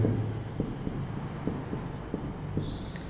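Someone writes on a board, with a series of light tapping strokes and scratches at an uneven pace against a steady room hum, fairly close.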